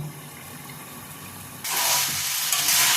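An ilish fish head curry with potato and pumpkin cooks under a lid with a steady sizzle that suddenly swells into a louder, bubbling hiss partway through.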